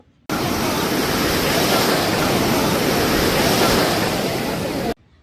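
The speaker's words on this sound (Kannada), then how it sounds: "ಆ ಅಲೆಗಳ ಸದ್ದು, ಗಾಳಿ" Steady roar of ocean surf washing onto the beach at Gokarna, continuous and fairly loud, with a breezy rush mixed in and no voices.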